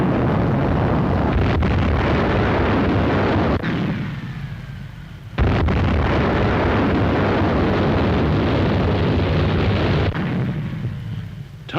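Heavy, roaring blasts and rumbling noise of explosions aboard a burning, listing aircraft carrier after a kamikaze attack, with a sudden sharp boom partway through amid constant wind-like rushing; no voices.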